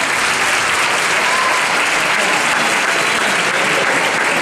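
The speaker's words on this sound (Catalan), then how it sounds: "Un fort aplaudiment per ells!" A school crowd applauds loudly and continuously for the youngest pupils parading at a charity marathon event, dense clapping that stays even from start to finish.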